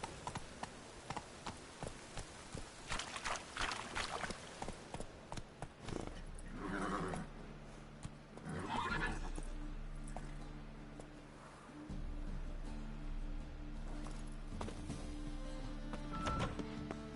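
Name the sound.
horse Roach galloping and neighing in The Witcher 3 video game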